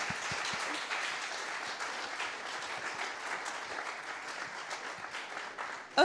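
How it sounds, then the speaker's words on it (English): Audience at a Bitcoin conference panel applauds, a steady wash of clapping from a fairly distant crowd lasting about six seconds. "we're also giving an applause to Andre"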